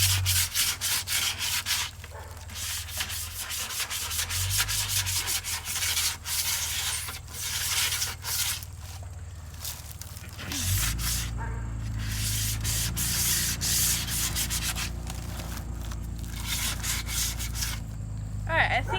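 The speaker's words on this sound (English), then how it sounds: "I just kind of scratched this up a little bit. And so I'm going to do that on this side too." Scraping and rubbing across the wooden surface of a beehive outdoors, a steady coarse sanding-like rasp that runs continuously and close up, with a brief shift in texture partway through and some outdoor background noise.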